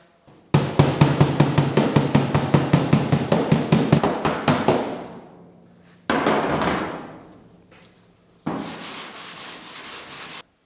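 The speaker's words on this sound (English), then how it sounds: "I need to get the hammer on this side, the dolly on the other side." A rapid run of loud metallic hammer-and-dolly blows on a Pontiac GTO quarter panel rings out steadily, followed by two longer scraping, ringing strikes that fade away.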